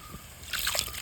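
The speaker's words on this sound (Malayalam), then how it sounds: "കുറച്ചും കൂടി വെള്ളം ഒഴിച്ചിട്ട്" Water splashes and trickles into a pan of simmering sardine curry paste for a moment after a quiet start, a short wet sloshing pour close by.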